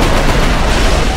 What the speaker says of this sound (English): Oh, that's grenades.